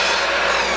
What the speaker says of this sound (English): I'm going to try and drill out this 1-inch dowel